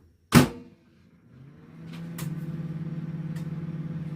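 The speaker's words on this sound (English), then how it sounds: "I'm going to have to put this in the microwave a little bit." A microwave oven door clicks shut with a sharp knock, then the oven starts and settles into a steady low hum with faint rattles, close and alone without talk.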